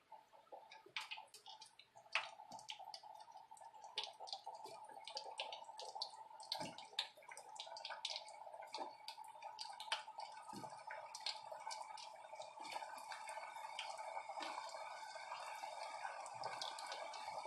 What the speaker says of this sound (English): Oil's hot. Let's toss those suckers in there. Bubbling.